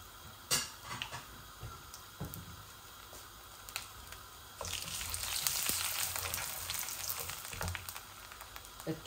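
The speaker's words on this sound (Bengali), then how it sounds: "এই দেখুন আমার 5 ফোড়নগুলা ভাজা ভাজা হয়ে গেছে" Panch phoron seeds with dried red chillies and cinnamon frying in hot oil, a quiet steady sizzle that grows busier and crackles more partway through, with occasional clicks of a spoon against the pan.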